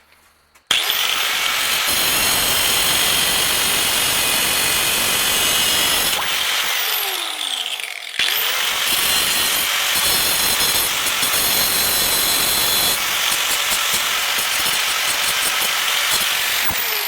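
A power tool grinds and cleans the metal frame of a 1951 Ford truck seat, starting abruptly and running loud and continuous for many seconds, with a brief dip in pitch midway and no talk.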